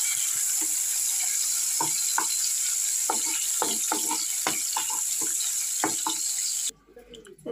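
Shrimp fry in a pan with a constant loud sizzling hiss, broken by quick scraping and stirring strokes throughout, then cut off abruptly near the end.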